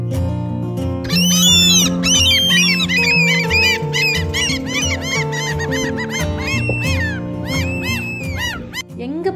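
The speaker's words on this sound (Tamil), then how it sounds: "எங்கே பார்த்தாலும் இந்த பறவை சத்தம் தாங்க கேட்கும் நிறைய, சம்மர் வந்தாலே. இது பேர் என்னன்னா சீகுல்னு சொல்லுவாங்க." Seagulls call loudly and repeatedly in summer at an open-air museum in Stockholm, a dense chorus of overlapping yelping cries that rise and fall, with a low droning background beneath.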